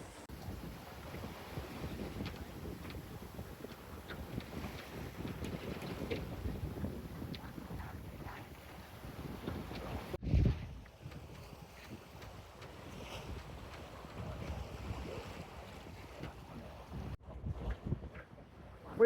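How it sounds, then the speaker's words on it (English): Steady wind rushing over a sailboat under sail in 24-knot breeze with a reefed genoa, broadband and continuous, with microphone buffeting and water wash beneath, no talk. "Wind speed started to get up to 24 knots, so we've given the Genoa a little bit of a reef, just a few turns around the forestay."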